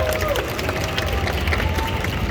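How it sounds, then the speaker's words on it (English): An audience applauds and cheers in a large hall at the IAAPA expo, a dense, steady wash of clapping with crowd noise mixed in. "I think that deserves a round of applause."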